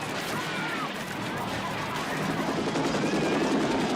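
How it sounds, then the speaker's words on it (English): A helicopter from the 1977 film Close Encounters of the Third Kind drones steadily in the distance, a dense broadband rumble with faint rhythmic chopping, growing slightly louder toward the end. "Oh, that's a helicopter."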